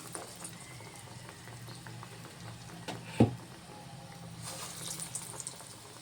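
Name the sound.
garelu (bobbarlu lentil fritters) frying in hot oil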